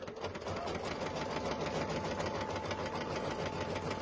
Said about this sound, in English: we're just going to run that clear placement step directly on top of our vinyl that we've been stitching on already